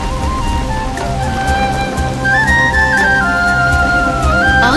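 Heavy, roaring rain in an animated story of Krishna leading a great crowd with cattle toward the Govardhan hill, heard as a steady, dense downpour wash beneath sustained music tones.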